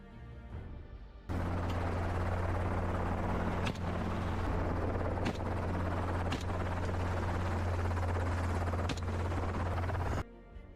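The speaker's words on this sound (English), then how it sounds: "using private aircraft to scan for wild boars on the run" Private helicopter flying over open fields in Brazil to hunt wild boars, a steady loud rotor drone with a low throbbing hum that cuts in abruptly and holds for several seconds.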